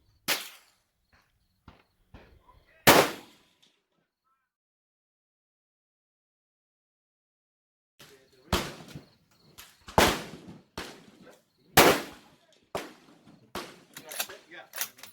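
A Ruger Precision Rifle in 6.5 Creedmoor fires at a 200-yard range: several sharp, loud cracks separated by silences and short pauses, with people talking nearby.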